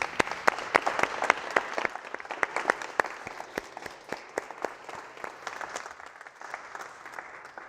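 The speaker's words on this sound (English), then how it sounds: "Give them a round of applause." Live audience applause at a motivational seminar, scattered sharp nearby claps over a softer crowd clapping that gradually thins out toward the end.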